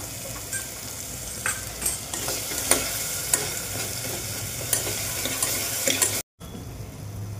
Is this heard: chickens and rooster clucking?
no